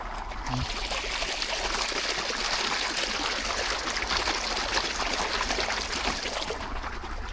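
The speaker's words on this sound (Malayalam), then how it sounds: "ഈ വെള്ളം വീണ സൗണ്ട് കേട്ടോളി കേൾക്കണില്ലേ" Water pours down in a stream near a home in natural surroundings, making a steady, continuous rushing wash that stays close and even throughout without a break.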